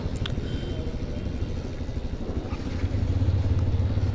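Several motorcycles from a five-bike group idle outside a hotel before setting off on a ride, a steady low engine rumble that stays close and continuous and grows slightly louder toward the end.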